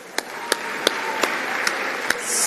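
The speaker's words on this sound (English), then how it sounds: "Another warm round of applause." Applause at a sports awards ceremony: a scattered handful of sharp claps rings out at a steady pace over a soft wash of crowd clapping, with a faint hiss swelling near the end.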